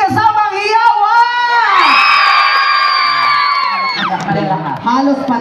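A crowd at a people's night show in San Pedro, Laguna cheers and yells loudly, with sustained shouted voices and whoops rising and holding, then breaking into scattered cries.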